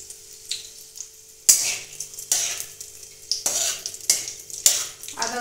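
Ginger with crushed cardamom, cinnamon, cloves and a bay leaf fries in oil, giving bursts of sizzling between rhythmic spatula stirs and scrapes against the pan, close and fairly loud.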